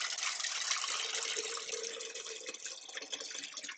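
Running water rinsing cyanotype prints made from objects, a steady hissing splash that stays fairly even for several seconds, faint and with no talk.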